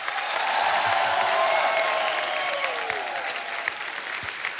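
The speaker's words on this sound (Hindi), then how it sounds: "हमारे सभी मेहमानों के लिए एक बार जोरदार तालियां हो जाए।" Studio audience at a Diwali episode of a comedy talk show applauds loudly and steadily, a dense sustained wash of clapping with some crowd noise, no talk over it.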